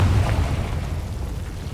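A Confringo spell blast in Hogwarts Legacy lands as a deep, heavy boom that hits hard at the start and rumbles off over under two seconds, with no voices.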